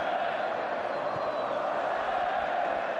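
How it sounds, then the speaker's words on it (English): Barcelona supporters in the crowd at the Grand Stade de Tangier chanting olés, a steady distant roar of massed voices filling the stadium with a sustained, even drone. "Olays now from the Barcelona supporters amongst the crowd."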